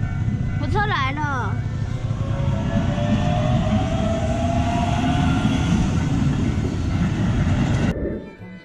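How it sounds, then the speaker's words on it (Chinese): A train rolls steadily past a station platform in Japan, a loud, close, sustained rumble with a brief whistle-like tone near the start, fading quickly as it clears; a voice speaks briefly early on. "火车来了"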